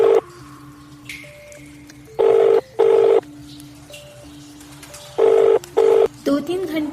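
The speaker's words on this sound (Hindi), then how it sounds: "दयाल ने उसकी जेब से फोन निकाला और रवि का नाम देखकर फोन लगाया।" Mobile phone being dialed: a string of short, close beeping keypad tones, some rapid and some in paired louder bursts, over a low background.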